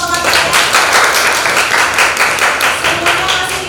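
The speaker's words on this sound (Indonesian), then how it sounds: "Tepuk tangan untuk teman-teman" A classroom of students claps for their classmates during a teaching practice lesson, steady, dense applause from many hands lasting several seconds at a close, loud level.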